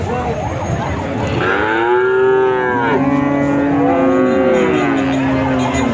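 A Friesian cow moos loudly and close at a busy cattle market, two long drawn-out lowing calls over a constant background of crowd chatter and market noise.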